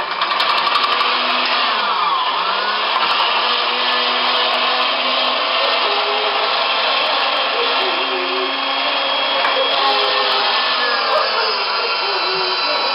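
An electric meat grinder runs as sausage meat is ground for Bavarian sausage, a loud, steady motor whir continuing unbroken for the whole thirteen seconds, close up and without talk.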